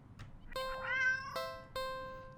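Two drawn-out meows from a cat in the video game Do NOT Take This Cat Home ring out clearly over a quiet background, the first rising and wavering, the second shorter and flatter.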